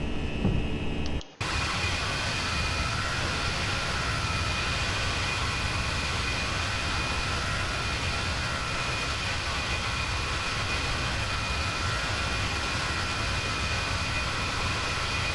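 An Airbus A319 in a flight simulator climbs out after departure from Kingston, giving a steady, loud broadband engine and airflow roar with a thin high whine, after a brief cut near the start.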